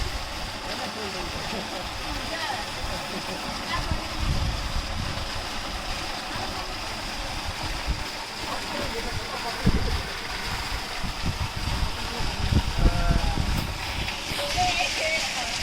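Water flows and splashes steadily in a resort swimming pool, a continuous rushing wash with occasional louder splashes, while people talk over it.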